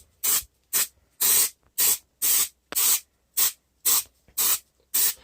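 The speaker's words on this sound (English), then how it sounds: "we're going to spray it with glue" Spray glue from an aerosol can hitting acoustic foam for a corner bass trap, ten short sharp hissing bursts in an even rhythm, close and loud with silence between.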